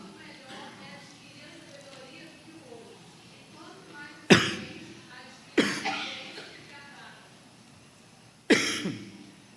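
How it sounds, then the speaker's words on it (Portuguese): A preacher coughs three times, each cough a sharp, loud burst spaced a second or more apart, following a stretch of quieter speech in a small room. "porque eu estava tossindo"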